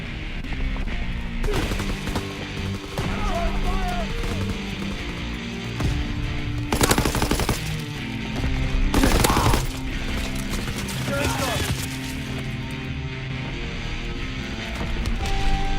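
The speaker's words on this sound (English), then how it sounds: "Anti-aircraft salvo commenced" Anti-aircraft salvo in the WWII game Call of Duty, loud dense bursts of gunfire and booms layered over continuous battle noise, with sharper volleys rising above the din and no talking.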